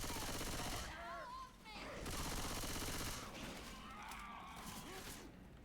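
Dense bursts of gunfire from the zombie shooter game Left 4 Dead 2, loud and sustained through most of the stretch, with excited players talking over the shooting.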